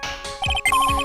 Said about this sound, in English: that's the sound of metal detectors seemingly bouncing off or something metallic